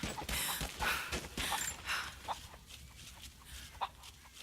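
Chickens cluck in Rise of the Tomb Raider, a series of soft, scattered clucks and short bursts, fairly quiet and close, with no one talking.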